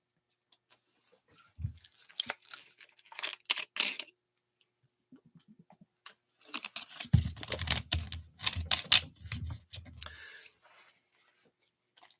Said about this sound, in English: Let me get this Tom Brady sleeved up real quick.